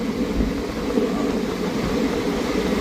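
Steady rumbling roar of a superfast train running on the rails, continuous and fairly loud with no talking.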